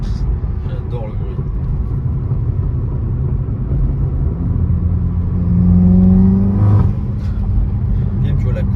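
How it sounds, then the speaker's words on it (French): Seat Leon Cupra turbo engine accelerating hard, a loud steady rumble whose pitch climbs and swells before dropping back, with people talking over it throughout. "Ah, et puis le turbo quand il s'active gros. J'adore le bruit."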